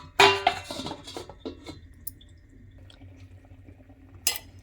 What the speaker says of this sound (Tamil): இப்போ வெட்டி வச்ச மாங்காய், முருங்கைக்காய் இதை போட்டு ஒரு 5 நிமிஷம் மூடி வச்சிடலாம்.